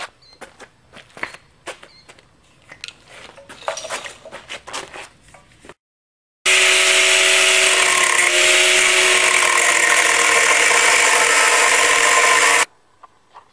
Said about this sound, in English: I have to take the cutting wheel grinder and make a notch just like that one in the other tranny